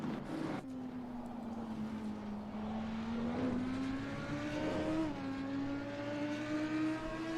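An Audi GT3 race car engine in the racing game Assetto Corsa Competizione hums at a steady, moderately loud pitch that climbs slowly over several seconds, with a brief shift in tone near the end and no talk.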